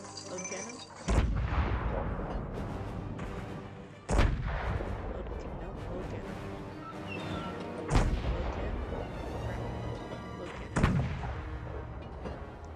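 Ship cannons firing in the VR sailing game Sail VR, four heavy booms spaced a few seconds apart, each with a rumbling tail, under a constant musical and ambient bed.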